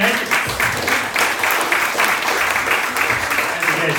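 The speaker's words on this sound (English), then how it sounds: "Round of applause for Nathan." An audience applauds Nathan at a Holochain talk with steady, dense clapping throughout, fairly loud and continuous, with a little voice mixed in beneath the clapping.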